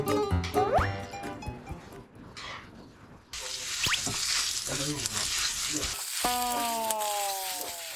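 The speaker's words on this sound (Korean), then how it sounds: "야채를 일단 볶고 있고요." Vegetables hiss and sizzle in a hot pan as they are stir-fried, with clatters of a utensil and a faucet running partway through.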